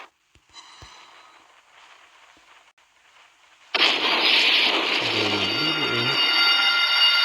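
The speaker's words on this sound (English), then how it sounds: "we're going to shoot down as many aircraft as we can" Anti-aircraft guns aboard the carrier Midway fire at aircraft in the naval battle game Naval Creed: faint, scattered shots at first, then a sudden loud, dense burst of gunfire and explosions that carries on to the end.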